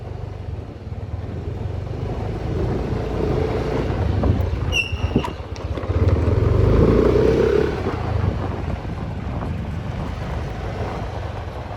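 A motorbike riding along a road in Mae Hong Son, Thailand, its engine a steady low rumble heavily mixed with rushing wind noise on the microphone, swelling briefly midway, with a short faint chirp early on.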